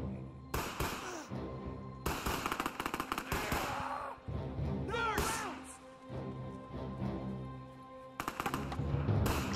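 Bursts of machine-gun and rifle fire in the World War II strategy game Men of War II, loud rapid volleys broken by short pauses, with scattered impacts.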